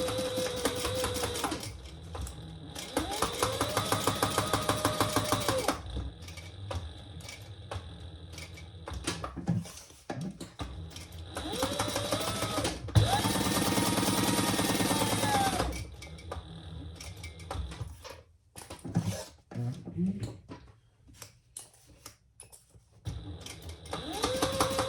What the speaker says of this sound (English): Now we're going to stitch all the way around on 3 sides.